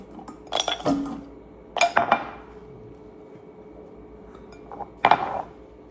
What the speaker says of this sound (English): So, gonna put mussel here.